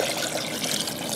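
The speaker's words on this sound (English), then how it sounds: "I'm gonna pour the water just above the coconut" Water pours steadily over coconut pieces inside a Blendtec blender jar, a continuous close splashing rush with no pauses.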